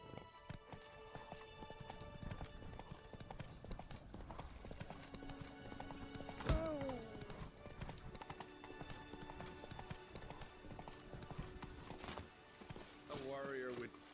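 Horse hooves in The Witcher 3 beat in a steady clip-clop rhythm under continuous game music, with a single sharp thump and a brief whinny-like sound; voices talk over it.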